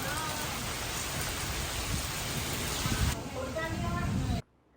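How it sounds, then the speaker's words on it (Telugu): Steady heavy rain hisses with a gusty roar in a windstorm, loud and constant, then cuts off abruptly near the end. "సో చూసారు కదండి గాలి దుమ్ము వర్షం ఉరుములు మెరుపులు అన్నీ స్టార్ట్ అయ్యాయి"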